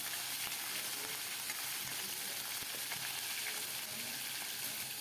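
Garlic and chopped green chillies sizzle and fry steadily in hot oil in a pan, a continuous crackling hiss with a few faint stirring clicks and no talk.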